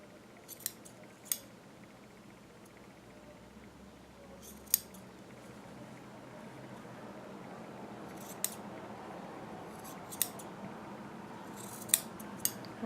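Scissors snipping dress fabric on a McCall's 6701 dress during sewing, a handful of sharp separate cuts spaced across a quiet room with long pauses between them.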